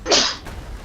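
One sharp, close human sneeze bursts out and quickly fades into quiet room noise.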